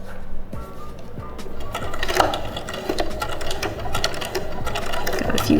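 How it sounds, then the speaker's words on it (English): A sewing machine runs continuously, stitching a strap onto a four-square bag, with steady mechanical clatter and rhythmic ticking. "So now we'll stitch that down and we'll have this strap halfway sewn on."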